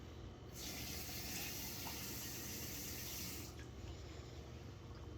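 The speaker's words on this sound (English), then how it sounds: "Put some water in here." Water pours into a rock tumbler barrel in a steady, close gush that lasts about three seconds, then stops, leaving a faint background hum.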